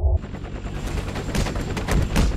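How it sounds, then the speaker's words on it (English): Gunfire in the Roblox video game Rolling Thunder comes as dense, rapid automatic shots, loud and near, continuing steadily for a couple of seconds. "they're shooting into the object meshes"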